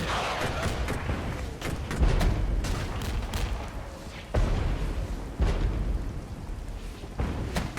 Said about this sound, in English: That artillery is going to hurt.